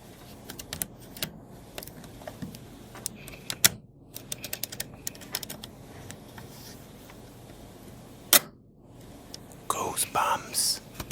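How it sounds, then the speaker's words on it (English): A Fujifilm camera is handled close up for ASMR, with crisp clicks, taps and light mechanical rattles scattered irregularly over a soft background, followed by a dense flurry of rapid clicking near the end. "stunning camera ASMR"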